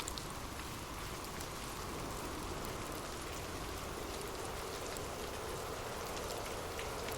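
Gentle rain falls steadily, a soft continuous hiss of raindrops with faint scattered patter, even and unbroken throughout.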